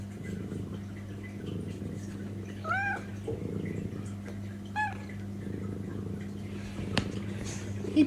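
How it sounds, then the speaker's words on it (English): Archie, a small pet cat, gives a few short rising meows at moderate distance over a steady low hum, with quiet background noise between calls. "He purrs and he meows so cute."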